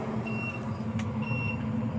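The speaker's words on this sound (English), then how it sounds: "You can hear my timer in the background going off." A timer goes off during a four-hour rib cook: two faint, thin electronic beeps sound a second apart over a low steady rumble and background hum.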